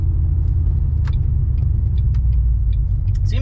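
A supercharged car cruises down a straight road, heard from inside as a loud, continuous low rumble of engine and tires with a few faint clicks and rattles on top.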